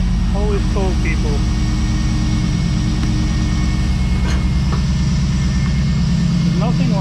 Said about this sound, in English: nothing like the sound or smell of a startup of an old car like this